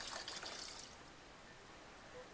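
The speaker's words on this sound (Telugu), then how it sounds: "దానికి 2 గ్లాసులు వాటర్ అయితే పోస్తున్నా" Water is poured into a pot holding one glass of rice and two glasses of water, a brief, soft splashing rush that tapers off quickly and stays faint throughout.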